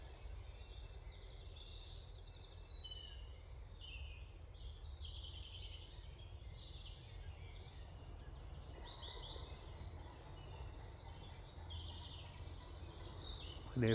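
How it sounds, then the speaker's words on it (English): Distant birds chirping and singing at dawn in scattered calls over a quiet outdoor hush, faint and far off, at a cold-weather hammock campsite. "You hear the birds singing."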